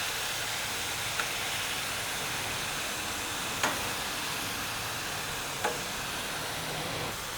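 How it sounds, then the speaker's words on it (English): Shrimp in marinade sizzling on a griddle, a steady broadband hiss with a few faint ticks and pops at moments, close and even throughout, with no talking. "We're gonna put it down with the marinade and everything."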